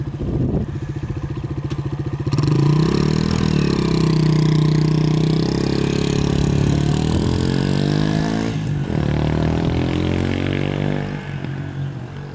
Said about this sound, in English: Engine revs smoothly and beautifully up to about 9 grand.